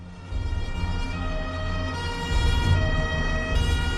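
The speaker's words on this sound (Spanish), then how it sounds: "se oyeron las sirenas de los coches de policía resonando por las calles de Palermo" Police car sirens wail through the streets of Palermo, a steady, loud rising and falling tone over low traffic rumble, with no voices.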